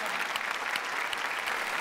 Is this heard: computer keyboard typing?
no